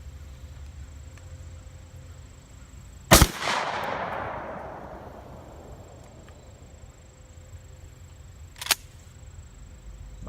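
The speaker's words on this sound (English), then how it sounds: "going to go for a headshot with the Mossberg 500" A single loud Mossberg 500 shotgun blast at an outdoor range booms close by and rolls away in a long fading echo, followed several seconds later by a sharp mechanical clack.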